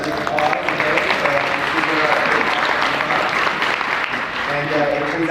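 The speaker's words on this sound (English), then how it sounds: "Yeah, round of applause." Audience applause at a myofunctional therapy conference session in Las Vegas, a steady wash of clapping from a large crowd lasting several seconds, loud and continuous with some voices mixed in.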